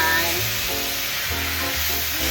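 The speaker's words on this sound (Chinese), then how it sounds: "趕快翻炒" Tomato and tofu puffs, seasoned with ketchup, black pepper, salt and sugar, sizzle as they are stir-fried in a pan, giving a steady, close hiss with low scraping and stirring underneath.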